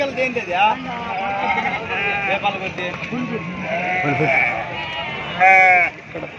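Sheep bleat repeatedly at a busy sheep market in Gudur, with several close, wavering calls and one loud bleat near the end, under steady nearby talk.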